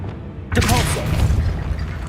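A Depulso spell cast in Hogwarts Legacy on PC, a sudden booming blast after a quiet moment, followed by a dense rumbling whoosh that fills the rest of the moment.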